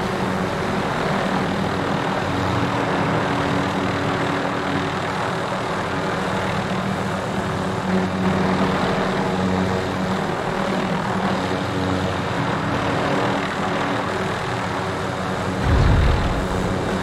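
A helicopter engine and rotor drone steadily in Call of Duty Warzone, a loud continuous whirring roar throughout with a brief low thump near the end and no speech.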